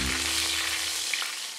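Black cumin, radhuni seeds and green chili sizzle loudly in hot cooking oil in a wok, a dense continuous frying hiss that fades a little toward the end.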